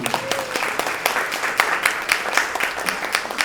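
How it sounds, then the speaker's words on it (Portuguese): Applause breaks out at an academic round-table session, a lively burst of many hands clapping with crisp individual claps on top, loud and close throughout. "pode aplaudir, gente."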